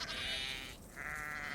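Sheep bleating, two drawn-out wavering calls in a row with a short gap between them, fairly close and clear over a faint background, with no speech.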